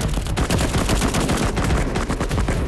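Rapid gunfire from the shooting video game CoverFire, with dense continuous bursts of automatic shots that stay loud and close throughout and carry no speech.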